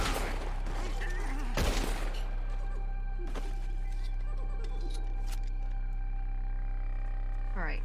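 Gunshots fired at ropes in the video game Red Dead Redemption II: a few sharp, loud cracks ring out over a steady bed of game ambience and low humming tones.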